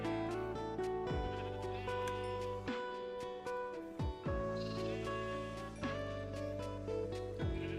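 Many sheep bleat in Minecraft, a dense overlapping chorus of repeated baa calls over steady background music, with several louder bleats standing out close by.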